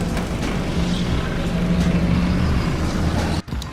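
A car driving, with a steady loud engine and road rumble from inside the cabin and a brief dip near the end, with no talk.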